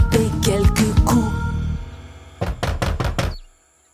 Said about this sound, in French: le grand méchant loup à la porte du plus jeune vint frapper quelques coups